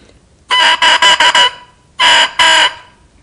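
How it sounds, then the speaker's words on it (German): An oboe reed blown on its own, without the instrument, gives loud, nasal, crowing squawks: a burst of five quick honks, a pause, then two longer ones, each standing alone against quiet. "Man sagt in Oboistenkreisen, das Rohr kräht."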